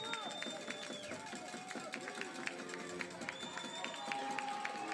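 Crowd at an American Heritage high school football game in Broward County, rising to its feet and cheering loudly, a steady roar of voices with scattered whistles and shouts, with faint announcer-style talk mixed in.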